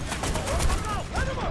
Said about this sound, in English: This would be my first time using a shotgun in maybe a good scenario for it.